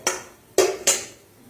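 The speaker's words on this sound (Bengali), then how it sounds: "এর মধ্যে দিয়ে দেব ম্যারিনেট করা চিকেন" Marinated chicken tipped into a hot pan for rezala, three distinct close thuds and clatters of food and utensil against the pan, with no sizzle standing out.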